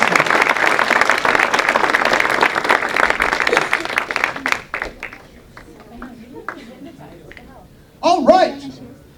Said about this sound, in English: Let's give a round of applause to our volunteers as they take their seats.